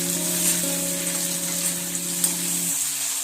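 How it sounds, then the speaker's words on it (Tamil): Chopped onion and tomato sauté in an oiled pan for a South Indian prawn dosa, giving a steady soft sizzle under a constant low electric hum, with no talking. "இப்போ வெங்காயம் ஓரளவுக்கு வதங்கிடுச்சு. இப்போ தக்காளியும் சேர்த்துடலாம்."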